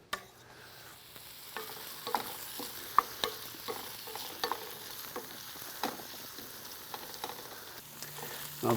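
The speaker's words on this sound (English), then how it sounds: "these onions, we're just trying to add a little bit more flavor with some salt and sauteing them up" Salted onions sautéing on a Komodo Kamado grill, a soft steady sizzle with scattered spatula taps and stirs, fairly quiet and with no one speaking.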